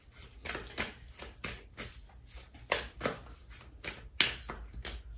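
Moon oracle cards are shuffled and picked by hand at close range, with a steady run of soft papery slaps and riffles recurring about every half second, with no talking.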